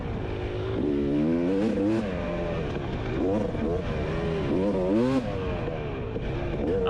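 A Husqvarna 250 two-stroke dirt bike engine runs nearby and loud, its buzzing pitch rising and falling through repeated revs without letting up.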